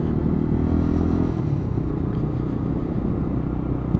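A Lexmoto Tempest Euro 5 motorcycle rolls along slowly at low speed, its engine a steady close rumble with little change in pitch, no voices over it.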